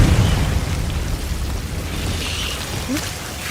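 A Confringo blasting spell in Hogwarts Legacy goes off as a loud, rumbling burst that fades into a low, crackling tail.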